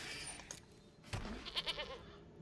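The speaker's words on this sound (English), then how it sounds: "And his famous goat." A goat token in MTG Arena lets out a short digital bleat, a few wavering pulses heard over quiet game music and effects.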